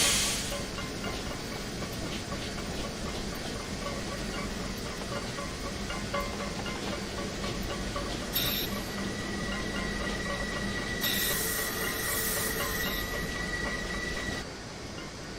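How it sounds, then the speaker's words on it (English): Steam locomotive running in Train Simulator Classic, a steady loud rumble of wheels and chuffing with hissing bursts of steam around the middle and near the end, with no talk. "Steam engines are very loud creatures."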